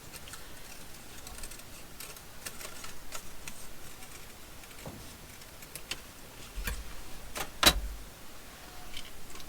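Faint snips and rustles of scissors cutting around a die-cut paper piece for a grunge-style snippet strip, scattered small crisp clicks and scrapes, quiet and close, growing a little busier toward the end.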